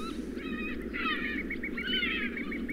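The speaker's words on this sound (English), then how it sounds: "Only thing we got right here is like seagull noises." Seagull-like squawking calls from the Harry Potter and the Half-Blood Prince video game come in several bursts over a steady low rumble of ambient game noise.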